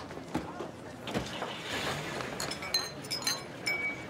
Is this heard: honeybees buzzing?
no